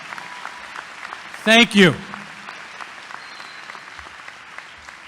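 A graduating senior class at a high school ceremony keeps up diffuse, steady applause that fills a large hall. A voice briefly speaks over it partway through.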